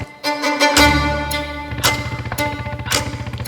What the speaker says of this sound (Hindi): ये पीछे किसी मोटरसाइकिल की आवाज है।